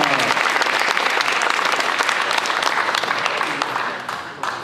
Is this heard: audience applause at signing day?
yes